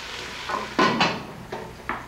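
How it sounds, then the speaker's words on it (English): Food stirred in a cooking pot in a cave kitchen, a few scraping, clattering strokes of a utensil against the pot over a soft simmering background, with no talking. "I like that stirring technique"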